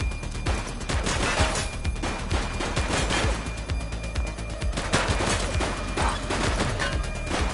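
Sustained bursts of gunfire in a police video game, dense overlapping shots and fusillades filling the whole stretch at steady loud level with no pauses.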